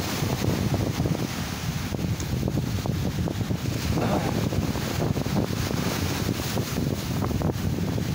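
Large night surf at Ujung Genteng beach on a rough sea, a steady broadband roar of breaking waves mixed with gusting wind buffeting the microphone, continuous and fairly loud throughout.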